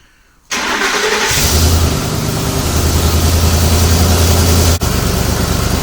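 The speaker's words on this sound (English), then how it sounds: "We're going to trigger remote start by pressing lock 3 times." A 2008–2010 Ford Super Duty F250 starting by remote start: a sharp crank catches and settles into a loud, steady idle with a low hum that runs several seconds, then briefly dips.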